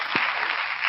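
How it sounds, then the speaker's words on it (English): An audience applauds the guests at the close of a live discussion on tariffs and the beer industry, a brief burst of dense clapping heard alone. "Give them another round of applause there."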